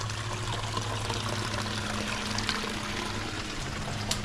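Water of a creek running through the site of an old mill, a continuous close wash of flowing, trickling water with no voices.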